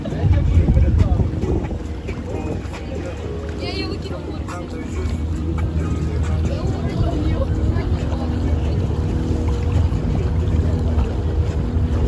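Steady wind blows on the Caspian Sea shore, with a constant rushing noise and buffeting against the microphone throughout.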